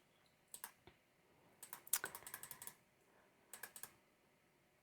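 Mouse clicks and key taps on a computer while paging through a children's book upload on Amazon KDP: short scattered bursts of light plastic clicks, one denser cluster in the middle, close and quiet with no talk.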